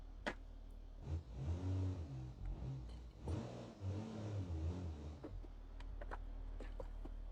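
A simulated 1978 H 1500 straight-six engine in BeamNG revs hard with wheelspin through second gear, its droning harmonics rising and falling loudly for several seconds before settling to a steady idle hum.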